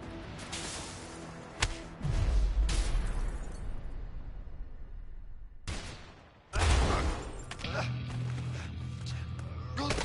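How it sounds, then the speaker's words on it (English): Gunfire in the PS4 action game A Way Out, with a burst of loud shots followed by a pause and then another heavy volley, under shouting and game noise. "I will shoot him!"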